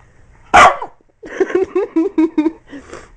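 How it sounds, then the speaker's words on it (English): A dog barking indoors: one sharp loud bark, a pause, then a rapid series of short yips and barks, close to the listener, with no talk over it. "That's just a bark."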